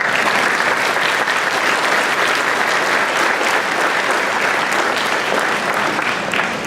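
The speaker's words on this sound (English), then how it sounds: "so give them a round of applause" Sustained applause from an audience honoring teachers at a school Blue Ribbon ceremony, steady and dense clapping throughout.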